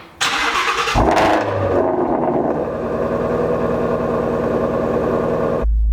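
A Ford Mustang GT350 with a new clutch spring cranks and fires up, rising into a loud, close rev, then settling into a steady rumbling idle before cutting off abruptly.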